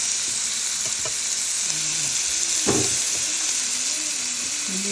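Onion and garlic sauté in a pan for chicken pastil, making a continuous close sizzle with a few brief stirring scrapes and faint tonal sounds in the background.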